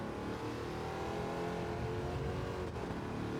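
A Wicked Fabrication GT 51 race car on the Grand Valley track roars as its engine accelerates out of a corner in third gear, a loud, steady, dense drone heard close and continuous with no talk.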